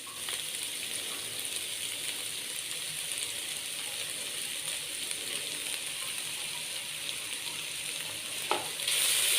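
Vegetables frying in a pan before mayonnaise is stirred in, a steady close sizzle with a hissing crackle holding even throughout, a brief clink near the end and the sizzle swelling slightly louder at the finish.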